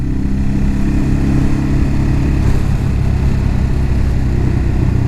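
Motorcycle engine running steadily while being ridden on a Scottish coastal touring road, a constant loud low drone with wind rumble and no speech.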